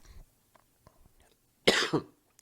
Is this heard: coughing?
yes